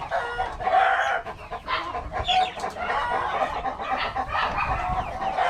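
Three-month-old Rhode Island Red chickens cluck in a coop, with overlapping clucks and calls from a flock nearby, steady and moderately loud with no talk.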